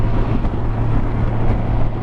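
Loud, steady wind roars and buffets over the microphone while riding a Honda Goldwing motorcycle, a continuous rushing blast with no talking.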